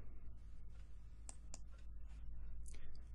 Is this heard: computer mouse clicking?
yes